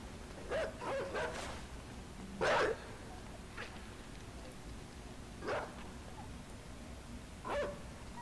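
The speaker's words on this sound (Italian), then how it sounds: "Di nuovo arriva il cane che c'era stato prima." Dog from the video game Inside barking, a few separate barks spaced several seconds apart over a low hum, moderately close, with faint talk.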